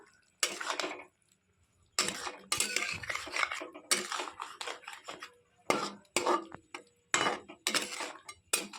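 A spoon clatters and scrapes in a pan as boiled egg and potato pieces are mixed into masala, coming in short bursts separated by brief silent pauses.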